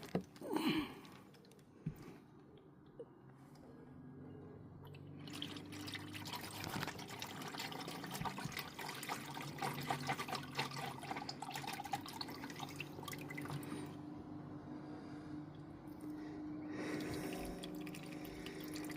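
Used engine oil from a Saab 9-3 drains in a steady trickling, dripping stream, with a few brief clunks near the start before the flow settles into a continuous liquid patter.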